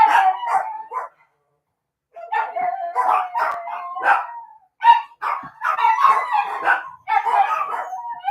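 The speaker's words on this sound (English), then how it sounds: "You can always tell when he's home. The dogs celebrate." Several dogs bark, yip and howl excitedly in repeated bursts with a short pause early on, loud and fairly close, with no talking over them.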